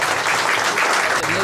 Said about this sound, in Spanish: Un fuerte aplauso, abogado